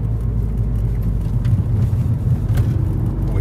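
A fire-damaged Ford Fiesta ST on the move gives a steady, loud, low engine drone and road rumble from inside the car, with no distinct dump valve bursts standing out.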